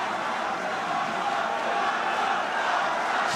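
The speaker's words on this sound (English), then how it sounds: "Just hearing the crowd" A large crowd at a Super Smash Bros. Melee tournament top 8 roars in a steady, dense wash of cheering and shouting that holds without a break.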